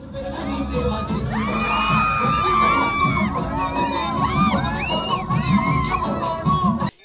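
A large crowd of a minister's supporters cheers and whoops in a grand welcome, with high shouts and yells rising over a steady roar of voices, bursts of excitement continuing until an abrupt cut.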